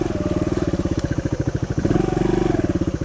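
Suzuki DR200 dual-sport motorcycle engine idling and puttering steadily in a wet swamp setting, a close, even rapid thumping pulse that rises slightly in pitch and intensity partway through, no talk.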